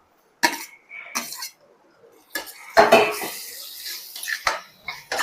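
Tomatoes are stirred and sautéed in a kadai, heard as a few scattered metallic scrapes and clanks of a spoon against the pan separated by short quiet gaps.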